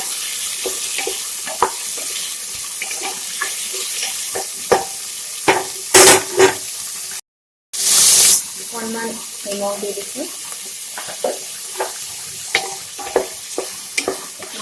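Carrot and beans fry and stir in a hot pan with a steady sizzle and scraping, a voice speaking briefly over it, with a short gap partway through.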